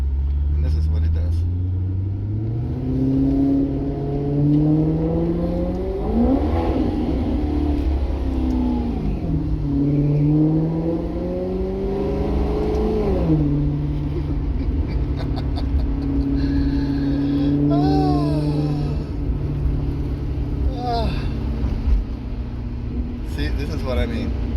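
A 2017 Maserati GranTurismo revs and crackles through its exhaust while cruising at low speed, the engine note rising and falling in loud surges with pops, someone talking over it throughout.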